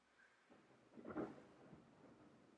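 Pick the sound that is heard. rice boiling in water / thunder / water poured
thunder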